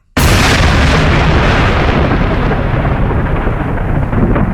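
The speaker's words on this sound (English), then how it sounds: "thunder crashing like the good Lord was bowling with boulders" Loud thunder crash on a stormy night, an abrupt booming strike that rolls on as a sustained rumble with heavy broadband noise, close and alone.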